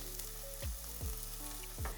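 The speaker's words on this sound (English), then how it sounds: "Fry the onions till they are light golden brown." Onions frying in a pan, a steady loud sizzle with a few scraping stir strokes, and no voices.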